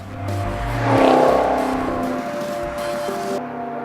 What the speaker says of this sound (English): It has this sort of typical V8 burble